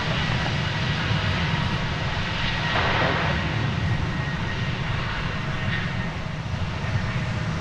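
A jet airliner roars steadily at DFW Airport as it heads out on a flight to Seattle, a loud, continuous engine rumble that swells slightly midway with no talk over it.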